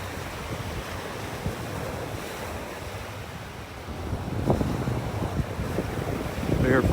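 Surf breaks and wind gusts across the microphone at the north end of the beach at Del Nor Wiggins Pass State Park near Naples, Florida, a steady wash of waves that swells louder toward the end.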